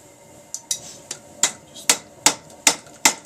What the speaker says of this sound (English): When you're doing a 90-degree bend, you want to hammer on the corner.